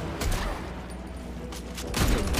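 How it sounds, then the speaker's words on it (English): Gunfire from Harley's guns during an Injustice 2 tournament match, several bursts of shots at the start and again near the end over a steady busy game mix. "And the big issue is that Harley does have great gunshots, right?"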